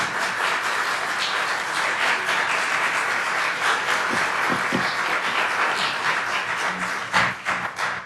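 Steady, loud applause from the audience at a city council meeting fills the room without pause, a dense wash of many hands clapping that tapers slightly at the very end.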